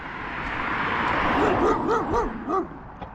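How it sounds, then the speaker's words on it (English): A dog barks and yips in a quick run of several sharp, rising calls close by, set against steady crunching footsteps through snow on an outdoor walk. "there's a dog that's going to eat me."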